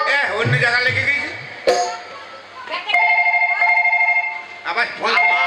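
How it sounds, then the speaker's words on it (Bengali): Telephone ringtone chirps out in short repeated bursts during a Bengali comedy opera scene, clear and near, alternating with animated talk from the performers. "আবার ফোন, আবার ফোন, আবার ফোন ফোন।"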